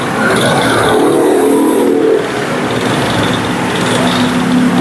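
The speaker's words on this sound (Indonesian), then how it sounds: "Coba digeber-geber" An old Suzuki Supra motorcycle engine, just repaired after two years unused, revs close and loud in a buzzy, continuous burst that eases slightly after about two seconds.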